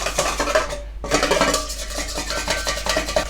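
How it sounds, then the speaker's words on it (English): Egg yolks and a teaspoon of vinegar are whisked briskly in a bowl, with rapid rhythmic wire scraping and clicking that continues close and loud, briefly pausing once. "Best thing to do is use a whisk"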